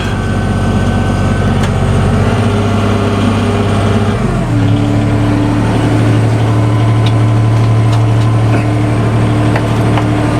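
A farm tractor's engine runs steadily from inside the cab, loud and continuous, with a brief drop and shift in pitch midway before settling into a higher, even drone.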